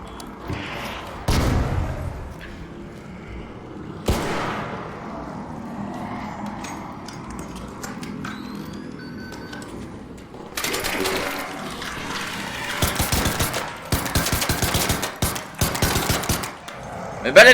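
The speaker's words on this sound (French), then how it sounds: "l'autre il me tire dessus" Gunfire from the Arc Raiders video game, with loud bursts of rapid shots early on and a dense stretch of repeated automatic fire toward the end, with quiet gaps between.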